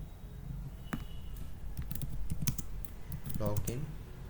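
Typing on a computer keyboard while entering HTML code for a login page. Brisk, uneven key clicks run throughout at moderate level, with a few louder taps and a brief voice in the background.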